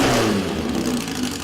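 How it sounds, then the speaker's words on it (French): Custom-built engine in a 1968 Volkswagen Beetle, almost every part homemade except the crankcase, revs in a steady loud drone with a slight rise and fall. "Ce passionné a imaginé et monté un nouveau moteur."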